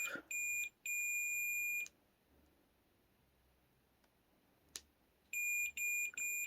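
Multimeter continuity tester on a water-damaged Nintendo DSi, giving a loud steady electronic beep in several sustained bursts separated by quiet gaps.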